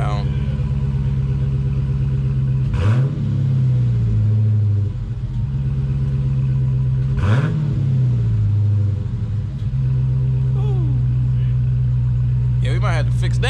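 Dodge Challenger Scat Pack with the 392 engine and six-speed manual, stock exhaust, rumbling at a steady idle with two sharp revs that fall back, sounding loud and close.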